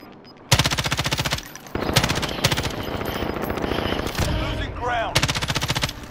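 Rapid machine gun fire in Call of Duty: Modern Warfare rings out in loud, sustained bursts with short gaps, alone and up close with no talk over it.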